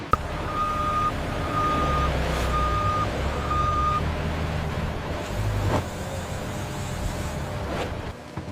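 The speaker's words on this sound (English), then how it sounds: "The truck is released, beginning its journey from factory to consumer." A truck leaving a cassava flour factory reverses, its backup alarm giving four evenly spaced beeps over a low rumbling engine, with a few air-brake hisses and thumps afterward, mid-distance and fairly quiet.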